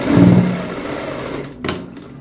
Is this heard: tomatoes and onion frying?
no